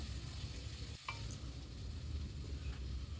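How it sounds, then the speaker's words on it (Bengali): Spice paste sizzles and fries in a pan after water is added for a Bengali katla fish curry, with a steady crackle and the scrape of a spoon stirring it close by. "জলটা দিয়ে মশলার সাথে মিশিয়ে নেব তারপরে আবারও এটাকে একটু কষিয়ে নেব"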